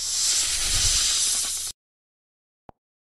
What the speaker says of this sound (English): The snake.